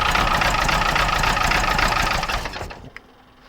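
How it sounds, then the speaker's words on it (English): Freshly built four-cylinder A-series engine misfiring and running on three cylinders, a loud uneven idle with a rough knocking beat that cuts off near the end, leaving a faint click and quiet. "it's likely only running on 3 cylinders"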